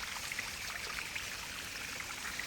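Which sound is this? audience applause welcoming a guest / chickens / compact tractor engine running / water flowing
water flowing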